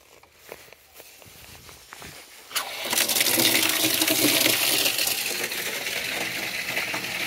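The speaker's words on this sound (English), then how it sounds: "Let's see what kind of flow we're getting from this tap." After a few clinks and knocks, a tap fed through 3/4 inch fittings is opened and water gushes strongly into a container, a loud, steady rushing that continues to the end.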